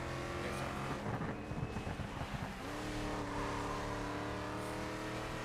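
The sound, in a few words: electric car engine in video game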